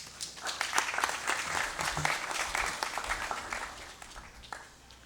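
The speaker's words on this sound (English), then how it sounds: "Please give him a round of applause." A round of applause from the audience at a congressional regular session, a steady wash of many hands clapping at a moderate distance, sustained for about five seconds and then tapering slightly.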